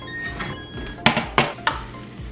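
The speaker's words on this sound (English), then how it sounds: "So we are going to remove it from the oven and stir." Roasting fajita vegetables fresh from the oven get stirred in their pan, three quick close scraping knocks over a soft sizzle, no voices.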